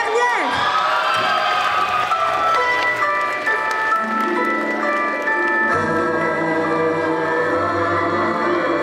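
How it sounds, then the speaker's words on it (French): A crowd cheers and applauds a Scarlet Witch cosplayer at a cosplay parade at Gamefest Charleville-Mézières 2024, the shouts and clapping mixed under loud, continuous music. "On l'applaudit, c'est la dernière."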